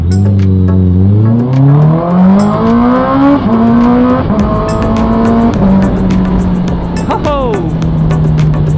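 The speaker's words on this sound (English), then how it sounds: "the Akrapovic full system exhaust installed on my 2020 Honda CB650R" A 2020 Honda CB650R with an Akrapovic full system exhaust and its silencer removed revs loudly and steadily, the engine pitch climbing through several rises and then holding a high, raspy drone alone.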